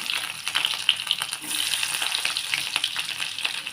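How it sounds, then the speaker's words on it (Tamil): Mustard seeds splutter in hot oil for a tamarind curry, a close steady sizzle dotted with sharp little pops and crackles, with no talking. "எண்ணெய் நல்லா காஞ்சிடுச்சு இதில் வந்து கடுகு ஆட் பண்ணிக்கலாம் கடுகு பொரியட்டும்"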